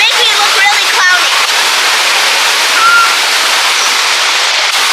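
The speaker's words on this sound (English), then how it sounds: "we just made it to the base of the large waterfall here at this park. And as you can see, it's pouring down rain" Large waterfall at a park in Puerto Rico under pouring rain, heard as a loud, continuous close roar of rushing water with brief voices at the start.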